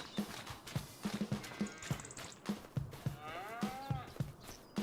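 Cows in a Farming Simulator 25 rice-paddy field moo repeatedly in long, sliding calls over a busy rhythm of clip-clopping hooves and livestock shuffling, fairly close and with no talk.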